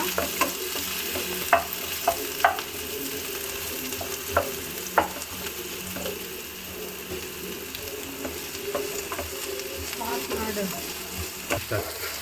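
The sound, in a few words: frying onion and chilli in oil, stirring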